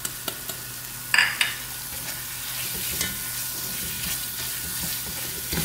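Ground pepper and ground fennel stirred into a sizzling turkey curry in a frying pan, with a steady loud sizzle, a clatter of spoon strokes and a few scraping stirs.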